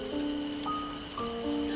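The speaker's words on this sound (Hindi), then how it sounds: "बारिश पूरी रात होती रहती है" Steady rain falls through the night outside a hut in a village, a constant wash of hiss with soft music tones over it and no voices.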